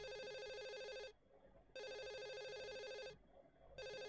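Electronic telephone ringing in the video game Silent Hill 4, two steady ring bursts separated by a short pause, clear and fairly loud.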